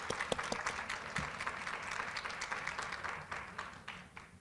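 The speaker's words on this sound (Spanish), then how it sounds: "a quien pido un aplauso" An audience at a pediatrics session gives a steady round of applause, a dense patter of clapping that holds for several seconds at moderate loudness.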